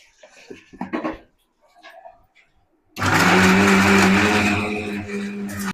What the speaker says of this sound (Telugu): మిక్సీకి వేసుకుంటానండి.